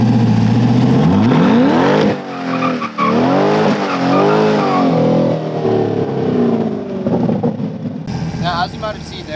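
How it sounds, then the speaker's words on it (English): A mid-engine C8 Corvette drifts under heavy throttle, its engine roaring loud and close as the rear tires skid and squeal, the revs rising and falling in waves throughout. "just give it a lot of throttle just to kick out the rear end"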